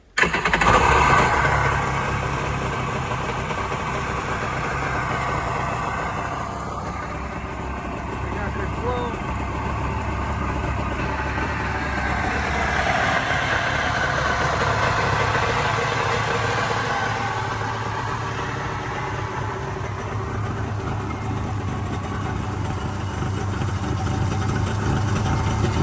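A 1998 Kawasaki STX 1100 two-stroke jet ski engine cranks and fires, then settles into a steady rough idle that holds for over twenty seconds, close and fairly loud.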